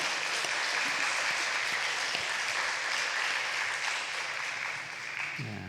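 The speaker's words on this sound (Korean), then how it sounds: "다시 우리 하나님께 영광의 박수요 드리겠습니다" A church congregation gives sustained, even applause after a hymn of praise, a dense wash of clapping filling the room for the full stretch.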